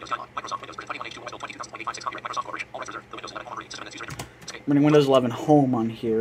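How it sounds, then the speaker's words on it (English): A Logitech G513 USB mechanical keyboard clicks in quick keystrokes on a Windows computer, partly buried under a continuous synthetic screen-reader voice that talks throughout. "And the mechanical keyboard sounds you're hearing, just a Logitech USB mechanical keyboard."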